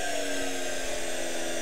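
Homemade fuelless generator spinning up, giving a steady electrical whine and hum of stacked tones, even and unbroken, with no speech.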